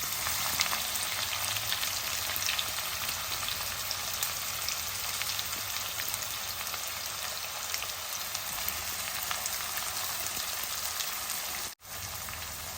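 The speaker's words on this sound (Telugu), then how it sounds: "జీలకర్ర వేగిన తర్వాత మన వెల్లుల్లిపాయలు వెల్లుల్లిపాయ ముక్కలు అనమాట వేగాక ఇంకా ఉల్లిపాయలు వేసేద్దాం" Onions with garlic and cumin frying in a pan give off a steady, close, dense sizzle like light rain. It runs evenly and alone for about twelve seconds and cuts out briefly near the end.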